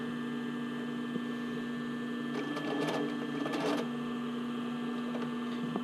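A sewing machine runs briefly in short stitching bursts while sewing a sports bra neckline near a V, over a steady electrical hum, close and fairly quiet, with no speech.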